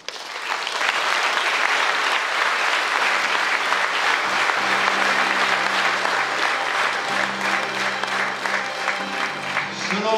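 Loud, sustained applause from an audience filling a ceremonial hall at a university anniversary celebration, steady clapping holding for about ten seconds with a faint murmur of voices beneath.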